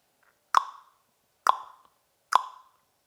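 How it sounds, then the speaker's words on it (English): Three sharp tongue pops made against the roof of the mouth, evenly spaced about a second apart, each a crisp close click with a quick decay into silence. "you could do the pop sound"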